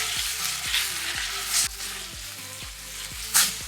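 Mahi mahi fillets sizzle in neutral oil over a moderately high flame, a steady close crackle with a few brief louder spits and pops standing out above the hiss.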